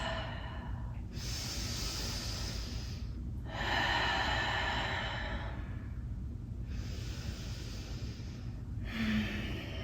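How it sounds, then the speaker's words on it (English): Slow, deep belly breaths drawn close to the microphone during a deep-stretch yoga session. Roughly four long inhales and exhales rise and fall softly over a low steady hum, with no talking. "Nice deep, deep belly breaths."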